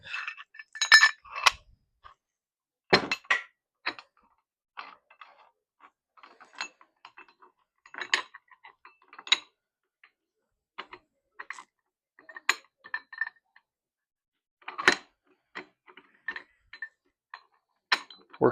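A folding metal boat anchor clicks and clinks at close range as it is folded and unfolded, with irregular short metallic snaps and rattles separated by brief quiet gaps, and no speech.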